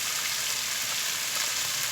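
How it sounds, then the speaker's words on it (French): Mushrooms and lardons fry in a pan with a dense, continuous sizzle that stays loud and even throughout, with no voices over it. "les champignons dans la poêle avec les lardons"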